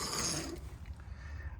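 A ratchet works loose the 18 mm trailing arm bolts on the rear axle of a 2009 Saab 9-3 Aero XWD, giving a faint, close mechanical rasp that runs for under two seconds.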